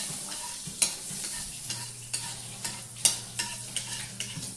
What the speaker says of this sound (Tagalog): Yan, panahawin natin yung butter,